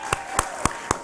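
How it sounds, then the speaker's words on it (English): Four sharp, evenly spaced hand claps ring out at an audience gathering for the Nasdaq bell ringing, each crisp and isolated with quiet gaps between them. "Big round of applause, let's kick it off."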